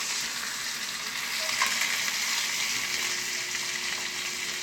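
Steak fat frying in a hot pan gives a steady, close sizzle and crackle that runs without a break and with no voices.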